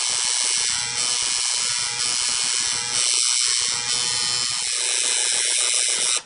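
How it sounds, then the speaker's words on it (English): A tattoo machine buzzes steadily and loudly up close while shading in black ink, a dense continuous mechanical whine with slight dips and surges as the needle moves in a repeated motion, with no voices. "If you'll notice when I'm shading the black, I'm actually taking the machine and doing this with it"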